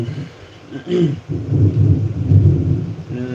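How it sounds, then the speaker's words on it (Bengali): Deep thunder rumbles continuously, swelling and rolling close by, with a faint patter of rain underneath. "মেঘ ডাকছে আর লাইভটা কন্টিনিউ করব না"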